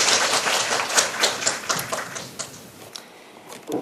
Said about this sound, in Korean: 자, 큰 박수로 모시겠습니다.